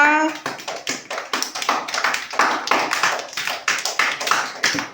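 A group of children clapping together in a classroom, a burst of many overlapping hand claps repeating in quick uneven waves, close and fairly loud, with a brief voice at the very start.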